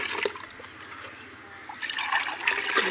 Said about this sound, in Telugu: ఇందులో వాటర్ పోసి